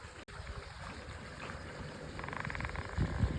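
Irrigation water flowing into the furrows of a sugarcane field just after spraying, a soft continuous gurgling rush that grows a little louder and more agitated toward the end, with no speech.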